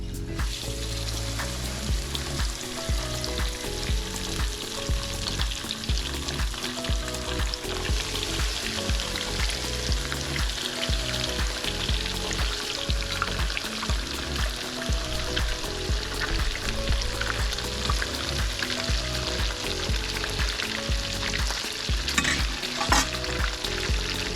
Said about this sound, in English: Oil is hot. Now we're gonna come in with our fish.